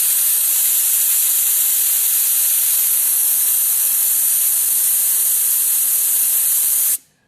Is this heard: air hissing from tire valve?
yes